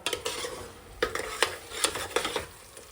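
Tomatoes frying in a pan for Mandya-style biryani, stirred with a spoon that scrapes and clinks in repeated close strokes over a steady low sizzle.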